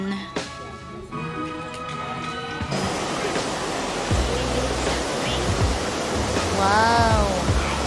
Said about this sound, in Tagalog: We're here at Johnston Canyon.